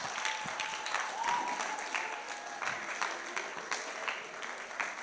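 Audience clapping at a youth mentorship programme session, a steady patter of many hands sustained throughout at moderate level, fairly distant, with no talk over it.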